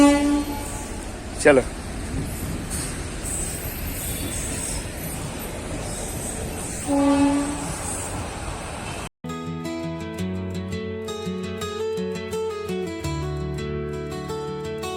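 A train passes at a distance on a railway line, with two clear horn toots over a steady rolling rumble, and people talking nearby before the sound cuts to music.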